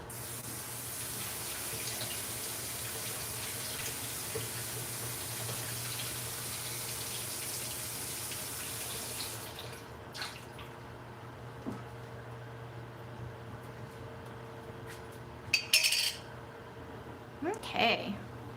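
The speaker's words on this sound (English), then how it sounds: "I'm just gonna wash it in really hot water." Hot tap water runs steadily into a kitchen sink while a jar lid is washed, a continuous hiss that cuts off partway, followed by a few clinks and small handling noises.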